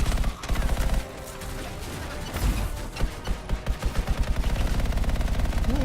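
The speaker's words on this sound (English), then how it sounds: "Not feeling the autocannon." An autocannon in a video game fires in rapid, evenly spaced bursts, loud and close, with the rhythmic thumping shots running almost continuously through the clip amid other game noise.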